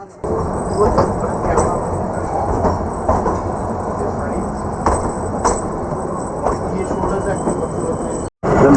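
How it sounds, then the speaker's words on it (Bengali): The Kalka–Shimla toy train pulls out of a station, rolling along with rhythmic wheel clatter and rumbling carriage noise, loud and close, with people talking in the background. "এই ছেড়ে দিল আমাদের টয় ট্রেনের সেকেন্ড স্টপ"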